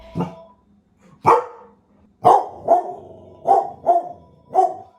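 A dog barks seven times nearby, sharp and loud, the first two spaced apart and the rest coming in a quicker run.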